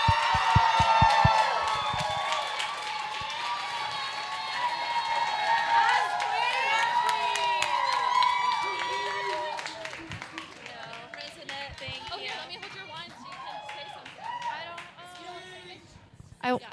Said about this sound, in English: Please join me in a round of applause for Kinsey Shepard.